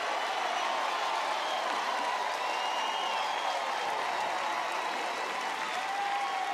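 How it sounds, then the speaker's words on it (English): A softball crowd at an NCAA game between Alabama and LIU applauds and cheers a great defensive play, dense continuous clapping and shouting at full volume throughout. "And the crowd goes wild for that"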